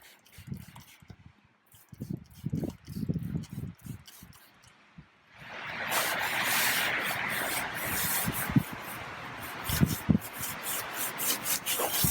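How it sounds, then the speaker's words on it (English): Brush scrubbing on an Audi S4 engine bay during cleaning: a steady, close rasping rub fills the second half, with some quieter handling and a few brief sounds before it. "Make sure you get this all scrubbed down."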